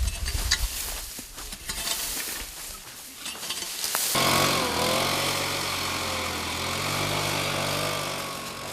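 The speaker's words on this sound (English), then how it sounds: "Blower blows away all the cut grass, dry leaves and twigs, thus clearing the guideline." A leaf blower clears cut grass, dry leaves and twigs from a forest fire line, starting after some faint rustling and then roaring steadily and close for several seconds with a wavering engine pitch.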